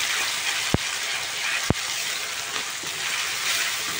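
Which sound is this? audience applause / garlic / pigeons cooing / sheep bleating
garlic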